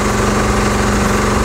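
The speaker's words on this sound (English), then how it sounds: "You hear the pitch of the engine change" A Honda-clone 6.5 hp engine driving a 12 V alternator runs at a steady, loud, close drone with a low throbbing hum as the alternator begins to load it.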